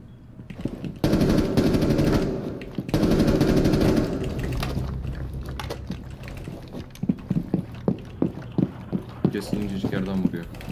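Automatic rifle fire in Rainbow Six Siege, a loud sustained burst around the first seconds and another longer burst soon after, followed by scattered sharp single shots and clicks as a voice talks over the action.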